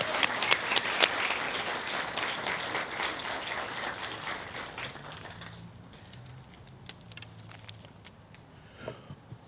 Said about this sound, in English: Big round of applause for DJ.